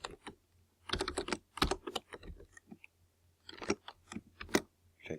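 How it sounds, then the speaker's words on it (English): Fingers type on a computer keyboard in quick clicking bursts with short pauses, close and fairly quiet, ending with a few firmer key presses. "type that and hit enter"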